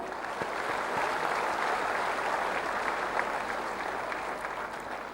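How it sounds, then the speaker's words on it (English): Sustained audience applause at a university convocation ceremony, a steady wash of many hands clapping at moderate distance for several seconds with no talk over it. "They deserve a big applause from all of you."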